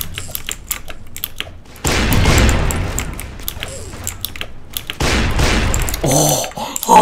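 Rapid-fire revolvers in a multiplayer video game crack off in fast, loud bursts, mixed with booming impacts and mechanical clicks throughout, and no talking.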